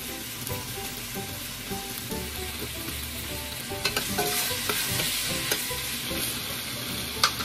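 Tom Yum style seafood soup with shrimp cube and black pepper is stirred in a pot, with a steady close scraping and clinking of the utensil over a soft simmering sizzle.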